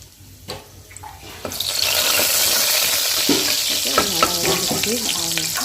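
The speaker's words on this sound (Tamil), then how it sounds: "இதை சேர்த்து நல்லா வதக்கிக்கிடலாம்" Dried red chillies begin frying in hot oil with a sudden loud sizzle that holds steady, broken by clinks and scrapes of stirring, close by.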